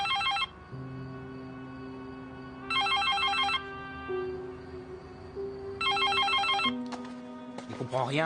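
Telephone ringing unanswered, with repeated bursts of electronic ringing separated by pauses, while a steady tone and other sounds run underneath.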